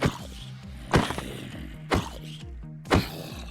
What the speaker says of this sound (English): Punching a mob has a new sound.